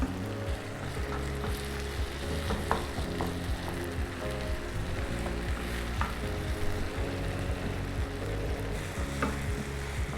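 Mutton pepper masala sautéing in a pan with pepper powder, a steady dense frying sizzle throughout with occasional light stirring ticks, no voices.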